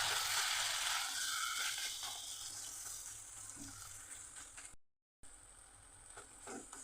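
Spices and chopped tomatoes sizzle in a hot pan with a steady hiss, fading gradually and broken by brief stirring scrapes and one short gap of silence.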